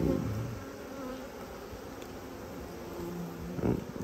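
A dense swarm of agitated honey bees drones steadily at an open beehive during requeening, a loud continuous buzz close to the listener with no voices.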